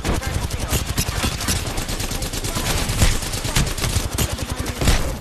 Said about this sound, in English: Dude, that gun just shoots forever, man